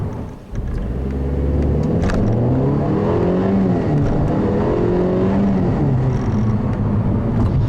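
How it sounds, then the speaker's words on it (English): A 2015 Mercedes-Benz CLA250 pulls hard at near full throttle, its engine note climbing steadily through the revs in a loud, continuous drone heard from inside the cabin, with no talk over it. "So that was close to a full throttle acceleration there"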